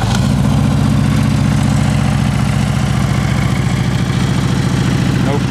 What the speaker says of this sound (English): Motor sounds good and tight.